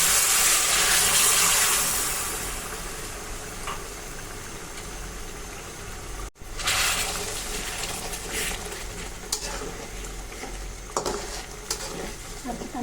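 Hot water poured into a cooking pot while beef tripe and potatoes simmer, a steady splashing rush with stirring clatter and a brief interruption midway, close and moderately loud.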